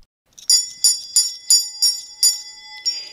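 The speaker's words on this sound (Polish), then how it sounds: "Taki dzwoneczek zabrzmiał w starostwie powiatowym w Gliwicach" A small handbell rung at a children's party in a county office, six bright evenly spaced rings with shimmering high overtones, close and clear, with no other sound around it.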